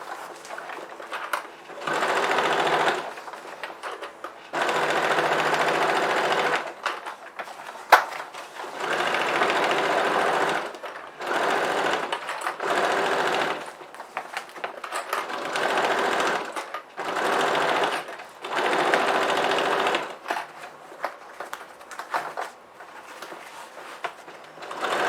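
A sewing machine stitches fabric for a bread basket in steady whirring runs, each a few seconds long and separated by short pauses, close and fairly loud.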